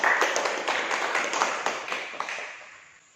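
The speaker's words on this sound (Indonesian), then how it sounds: "Kalau tidak kita kasih tepuk tangan dulu untuk kelompok 1." A classroom of students claps for a presenting group, a short burst of scattered, close hand claps with uneven rhythm that fades out over a few seconds.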